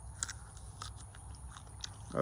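A ripe jujube fruit, sweet and tart, gets bitten into with a crisp crunch, followed by a few quiet chewing crackles, close and faint.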